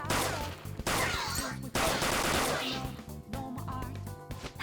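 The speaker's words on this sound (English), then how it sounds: "You can continue shooting until you run out of ammunition" Rapid bursts of gunfire from Persona 5 Royal, loud and repeated in several volleys with brief gaps, set against game music.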